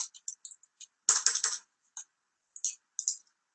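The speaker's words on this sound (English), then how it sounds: "I literally just have to hold the control button on my keyboard and press N" Computer keyboard keys pressed in short scattered clicks, with one denser burst of several quick taps in the middle, close and quiet in an otherwise silent room.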